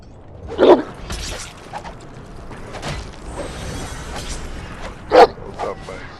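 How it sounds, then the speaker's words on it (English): A dog in a Game of Thrones video game barks sharply as it attacks an enemy, two loud close barks a few seconds apart over clattering combat noise and faint background sounds. "Get dog to attack this dude."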